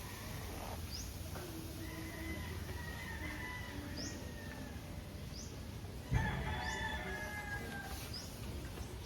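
Roosters crowing at a gamefowl farm in Padre Garcia, Batangas: several rising crows from different birds overlap against steady outdoor hiss, some distant and one loud and close near the end.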